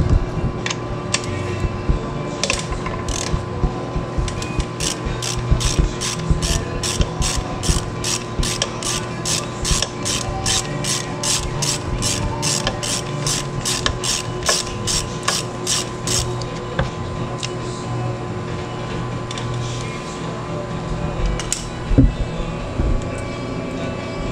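A socket wrench ratchets loose the oil drain plug on a Mercury 90 four-stroke outboard, using a 10mm socket. Rapid, evenly spaced clicks run for about thirteen seconds over a steady mechanical hum, then stop.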